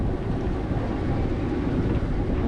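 A sailing boat moves slowly through choppy, sandy water churned up by wind the day before, giving a loud continuous rush of water and wind buffeting close to the microphone, with no voices.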